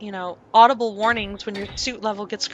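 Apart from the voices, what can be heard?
No distinct noise like a dog, phone or traffic.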